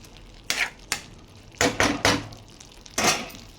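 A spoon stirs a broad bean and tomato curry in a pan, making a few separate scraping and clattering strokes close by, spaced unevenly over a few seconds.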